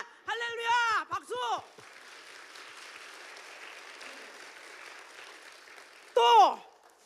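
Congregation applauding in a church during a sermon, a sustained wash of many hands clapping at moderate level, framed by the preacher's voice before and after.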